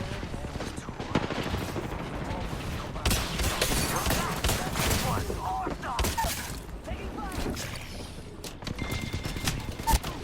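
Gunfire in the battle-royale game Apex Legends, with bursts of shots rattling through a dense, busy mix and sharp peaks near the end, while a player talks over it.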